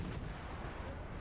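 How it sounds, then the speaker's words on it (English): Napoleonic-era cannon artillery in the strategy game Napoleon: Total War, a dense continuous booming rumble of massed guns firing, heavy and steady throughout without a break. "Artillery."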